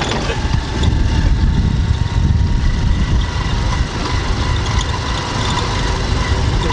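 Engine of a motorized tricycle in the Philippines running steadily while a learner drives, a continuous loud low rumble throughout with an instructor's voice speaking intermittently over it.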